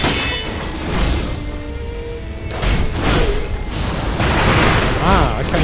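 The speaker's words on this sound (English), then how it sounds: "Right, we'll give firecrackers a go." In Sekiro: Shadows Die Twice, firecrackers burst in a series of sharp pops and booms amid game combat noise, with someone talking over them.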